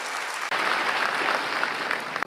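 A crowd at a religious padyatra convention bursts into loud applause for guests, a sudden onset of dense, close clapping that holds steady for a couple of seconds before cutting off.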